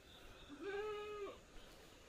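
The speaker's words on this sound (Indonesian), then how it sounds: "Ini ada kandang kambing di sini, mbek-mbek." A single goat in a goat pen bleats once, a clear wavering cry of about half a second, fairly faint and alone against quiet background.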